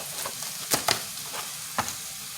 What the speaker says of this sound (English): I do fry them first before I add it to the sauce